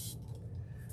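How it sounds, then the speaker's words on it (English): A hand spray bottle mists distilled water in a steady, close hiss lasting about a second, ending abruptly with a sharp click. "I'm spraying"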